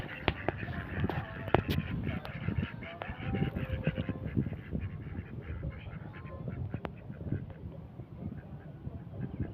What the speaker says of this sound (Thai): พอดีเรามาเจอเป็ดนะครับ เป็ดที่ชาวบ้านเขาเลี้ยงไว้นะครับนี่